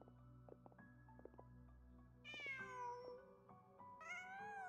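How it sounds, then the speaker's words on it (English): A cat in the video game Genshin Impact meows twice, two clear drawn-out calls over a soft, sustained musical game soundtrack. "Just a cat."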